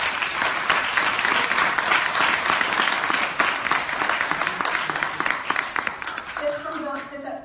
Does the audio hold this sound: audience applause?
yes